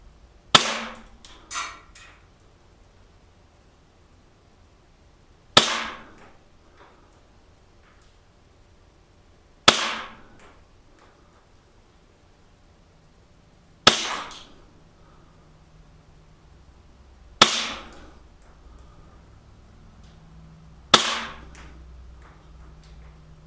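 A Cybergun Colt 1911 airsoft pistol fires six single sharp shots spaced several seconds apart, each a crisp snap with a quick fading tail, in a quiet setting.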